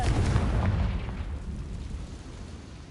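A booming blast from the Confringo spell in Hogwarts Legacy, one heavy explosion thudding at the start and then fading into a low rumbling tail.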